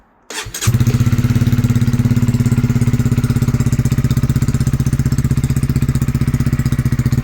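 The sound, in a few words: Honda CB125R motorcycle idling with Scorpion full exhaust system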